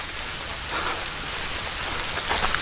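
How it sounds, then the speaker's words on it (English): Continuous rainfall hisses over a lakeside hiking trail, a broad, steady wash of drops that swells slightly toward the end, nearby and unbroken by any voices. "A bit more rain falling now too."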